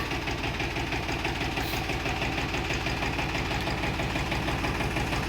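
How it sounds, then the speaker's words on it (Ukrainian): A small Kentavr tractor's diesel engine, with nearly 400 engine hours, idles steadily with a rapid, even knocking chug, close by and continuous throughout. "Ось так працює тракторець."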